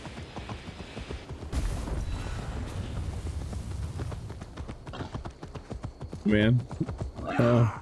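Horse in Assassin's Creed Valhalla trotting with rhythmic hoof clip-clops, then two short neighs near the end, over game background sounds; a voice speaks over it.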